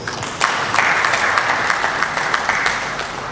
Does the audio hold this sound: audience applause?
yes